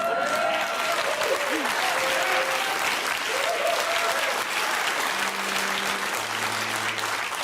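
Studio audience gives loud, steady applause that fills the whole stretch, with voices and a few cheers or whoops audible above the clapping.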